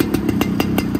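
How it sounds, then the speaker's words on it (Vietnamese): A Xipo motorcycle with its stock exhaust runs close by, its engine thumping in a quick, even pulse of loud exhaust beats. "Em nổ máy cho mọi người nghe nha."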